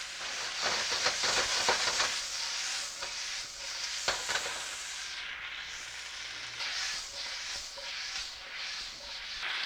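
Beef stir-fries in a hot wok, a moderate steady sizzle and hiss with intermittent sharp crackles and stirring clatters near the start, continuing evenly without speech.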